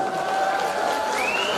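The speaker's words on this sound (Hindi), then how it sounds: "उनके लिए जोरदार तालियां।" An audience at Ladarcha Festival 2022 in Spiti Valley, Himachal Pradesh, applauds and cheers the Himachal Pradesh Police orchestra band, a steady, dense crowd roar with a sustained musical tone ringing above it.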